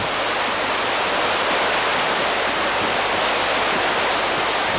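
Sea waves at Mud Island beach rush in a dense, constant roar of surf, loud and unbroken throughout, with no talking.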